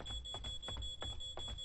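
A high electronic beeping alarm sounds in the horror game Paranormal, a steady faint tone over soft footsteps or thuds, with no voice.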